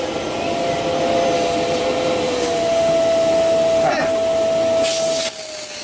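A vacuum or dust extractor runs loudly and steadily in a woodworking workshop, a continuous whooshing roar with a whining tone that shifts pitch as suction changes, rising sharply near the end.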